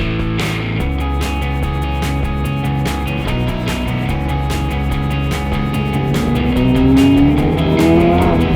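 A straight-piped Audi R8 V8 drones loud and close while being driven, its exhaust holding a steady growl before the pitch climbs under acceleration near the end.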